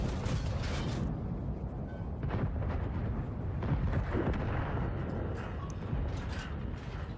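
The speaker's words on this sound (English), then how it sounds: "Should I just fire HE at him?" A tank firing a high-explosive shell in World of Tanks, a loud booming blast followed by dense rumbling and further bursts of battle noise that stay heavy throughout.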